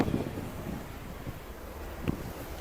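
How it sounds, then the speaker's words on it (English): Strong wind buffets the microphone on the Staten Island Ferry deck in a steady low rumble, with one sharper gust near the end; nobody speaks. "it's so windy."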